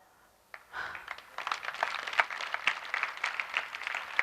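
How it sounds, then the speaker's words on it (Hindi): An audience breaks into applause at a memorial lecture, starting after a brief quiet moment and continuing as a steady patter of many hands clapping. "आप तालियां बजा रहे हो"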